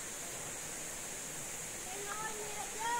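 Steady rushing water of a river, a continuous broadband flow close by and fairly loud, with a faint voice or two rising near the end.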